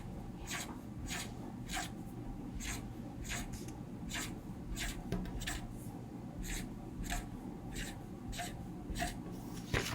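Pen or marker tapping out a series of dots on paper, quick rhythmic ticks in bursts over a low room hum, close and fairly quiet, with no talking.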